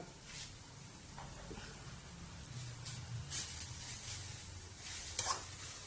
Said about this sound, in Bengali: চারদিকে যেন ঘিটা যায় সেইভাবে এটাকে ভাজতে হবে।